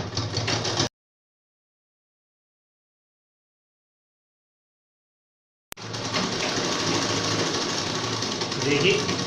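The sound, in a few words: sewing machine stitching trouser seam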